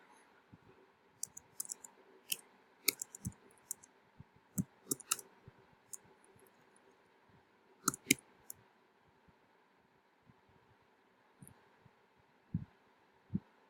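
Someone types on a computer keyboard, and the scattered, quiet key clicks come in small irregular bursts. There is no talk over them.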